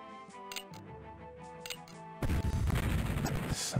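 Cannon fire in the Civil War Generals 2 strategy game, a heavy booming blast that breaks out suddenly after quiet game sounds and rumbles on loudly to the end.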